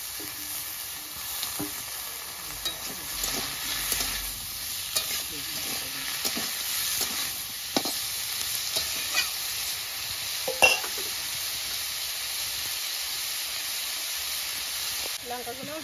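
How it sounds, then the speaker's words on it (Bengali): Potatoes sizzle in hot oil with lightly fried onions in a pan while being stirred, giving a steady frying hiss with scattered scraping taps throughout. "আমি তার সঙ্গে আলুগুলো ভেজে নেব"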